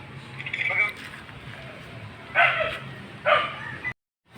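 A dog gives a few short yips and barks close by, scattered across a few seconds, over a low background rumble.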